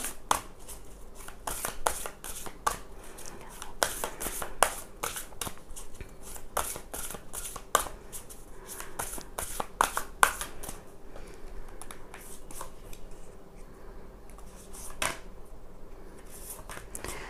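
Tarot cards being shuffled by hand, a close series of sharp riffling flicks and slaps in uneven bursts, thinning out toward the end, with no talk.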